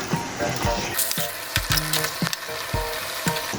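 Beef for a black roast fries in a pan while a spatula stirs it, making a steady close sizzle broken by repeated wooden scrapes and knocks.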